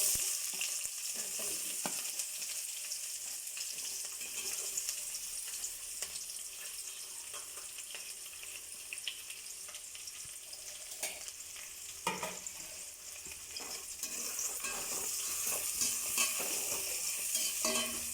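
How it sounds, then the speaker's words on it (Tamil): Onions frying in hot oil with whole spices for a prawn biryani, a steady dense sizzle with occasional stirring scrapes, close and continuous throughout with no talking. "வெங்காயம் நல்லா பொன்னிறமாக வதங்குற வரைக்கும் நல்லா வதங்கட்டும்."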